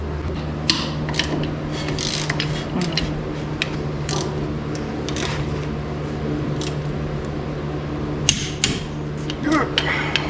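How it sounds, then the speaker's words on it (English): A torque wrench ratchets as drum brake bolts on a 1963 Chevy K10 4x4 are tightened to 100 foot-pounds, a steady run of loud, close mechanical clicks and metallic ticks over a constant hum. "I'm going to torque these down to 100 foot-pounds."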